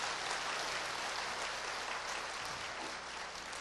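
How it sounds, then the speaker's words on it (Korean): A church congregation claps steadily, a dense, even wash of applause from many hands that holds at a moderate level throughout, with no talking. "You don't have to clap like that."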